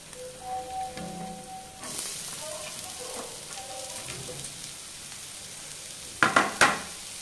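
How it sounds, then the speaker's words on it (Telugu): Bitter gourd and onion pieces sizzling and frying in a pan, a steady close hiss with stirring, faint scrapes, and a few sharp clatters near the end. "ఇలా కొద్దిసేపు అయ్యాక ఈ ఉల్లిపాయ ముక్కలు కూడా వేసేసుకుందాము."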